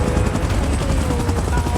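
Helicopter rotor noise in a PUBG Godzilla game scene, a steady loud churning drone filling the whole clip with busy mechanical chatter layered over it.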